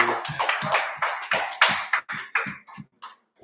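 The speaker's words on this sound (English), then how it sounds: "can we get a round of applause" A small gathering claps in short, uneven bursts that stop and start, the separate hand claps sounding close and sparse rather than forming a full round of applause.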